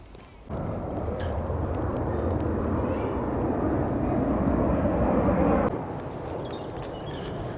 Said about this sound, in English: Ryanair plane is just on final approach, just about to land into the airport